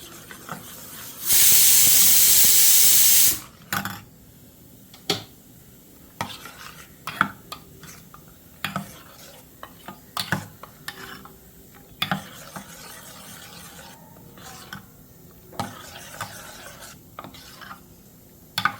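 A spoon stirs appam batter mixed with lukewarm water in a bowl, making soft scraping, tapping strokes at an uneven pace, close and fairly quiet, after a brief loud hiss near the start.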